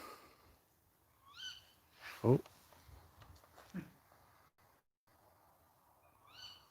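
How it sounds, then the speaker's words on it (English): A bird gives repeated high, descending calls at a distance in a quiet night graveyard, Dowles Graveyard, with a sharp gasp and soft murmuring between calls. "I'm guessing it's a type of bird."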